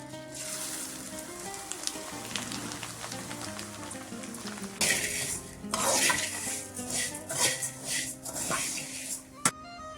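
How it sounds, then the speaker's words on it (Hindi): Poha tipped into hot oil in a pan for a matar poha snack, with a steady sizzle, scraping spoon strokes and clinks of metal, growing busier and louder halfway through as it is stirred; music plays underneath. "इसी तेल पे मैं पोहा को ऐड कर देंगे।"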